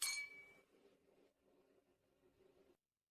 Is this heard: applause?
no